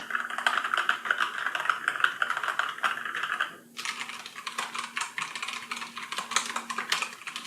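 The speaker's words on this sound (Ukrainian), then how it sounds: "Клавіатура так чи інакше гучна, це треба зрозуміти, що механіка так чи інакше вона буде гучна." Rapid clacky typing on an Aula Wind F3032 mechanical keyboard, close and continuous, with a brief pause midway before the keystrokes resume.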